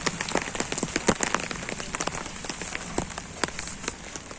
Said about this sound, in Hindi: ज़्यादा तेज बारिश तो ना, पर वो है हवा चल रही है